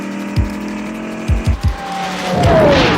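A sports car engine revs in short bursts, then a rising whine and tire squeal build up loudly near the end.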